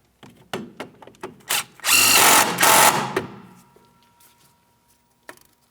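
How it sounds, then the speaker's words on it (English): A power tool snugs a mounting bolt on the rear upper control arm of a 2007-2014 Ford Edge, with a few light clicks, then two short loud bursts of whirring and a final faint tap. "Start on the mounting bolt, snug it up."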